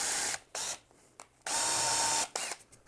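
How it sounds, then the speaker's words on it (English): A hand drill bores countersinks into wood for a simple blanket ladder, giving several bursts of broadband whirring of varied length with short gaps between them, close and loud with no talk. "I'm just going to drive my countersinks in."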